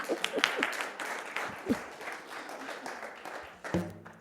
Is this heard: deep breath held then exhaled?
no